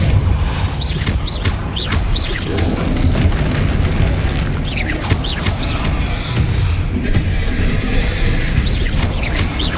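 Booming force-spell blasts from Hogwarts Legacy recur over a dense, loud layer of game combat effects, with sharp whooshing bursts standing out through the mix.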